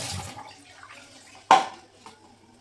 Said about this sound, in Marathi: आणि हे बघा याला धुवून घेते.